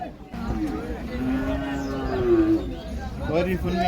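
A heifer gives a long, drawn-out low moo, rising and falling, followed by shorter calls, with crowd murmur and distant voices of a busy livestock market around it.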